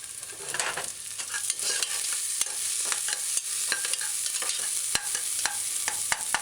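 Mashed garlic cloves fry in a pan on a stove set to medium-high heat, giving a steady close sizzle broken by frequent sharp clicks and scrapes of stirring, with no talking.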